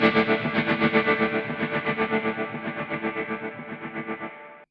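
An electric guitar through a Kemper Profiler, with tremolo placed after the delay, rings out distorted notes that pulse in a fast, even throb, fading out over about four seconds before cutting off.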